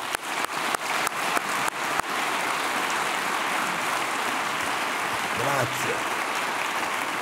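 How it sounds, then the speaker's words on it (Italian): Warm applause in the Italian Senate for the President of the Republic: sharp clapping up front that settles into a steady, even wash, with a brief word of thanks spoken near the end. "a cui rinnovo il vostro caloroso applauso"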